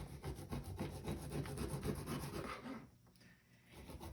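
A kitchen knife is drawn through the built-in sharpener on the back of an electric can opener, giving steady rhythmic rasping strokes close by for about three seconds before a brief quiet pause.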